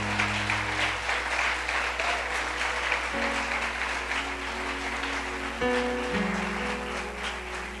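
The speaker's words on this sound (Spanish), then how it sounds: "Dale un aplauso al Señor, dáselo bien," Members of the Casa de Paz church congregation applaud in a steady, crowded burst of clapping, with sustained keyboard-like musical tones droning and shifting underneath the whole time.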